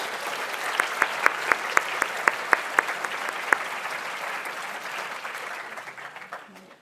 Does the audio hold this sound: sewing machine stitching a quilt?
no